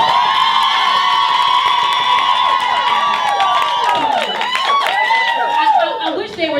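A large crowd at an R&B event cheers and whoops loudly and steadily in a room, the shouting swelling and staying dense throughout, with a voice speaking briefly near the end.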